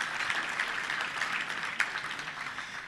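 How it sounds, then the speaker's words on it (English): Faint, steady applause comes from a Little Rock Touchdown Club luncheon crowd honouring auction bidders, a soft continuous patter of clapping across about three seconds. "give a round of applause to all those folks who bid on those"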